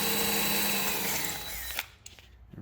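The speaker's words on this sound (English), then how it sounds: "So we finished drilling our holes" A power drill whines steadily as it bores a hole through the roof of a 2019 Chevy Colorado ZR2 crew cab for a ditch-mounted roof rack, then cuts off abruptly, leaving brief clicks and handling noises.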